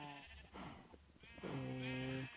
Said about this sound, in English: There's so many sheep here.